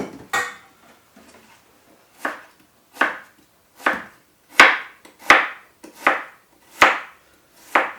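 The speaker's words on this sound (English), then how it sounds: "Just slice it up." A knife slices onions on a cutting board, about nine crisp, evenly spaced chops that grow louder and quicker toward the end, close-up with no talking.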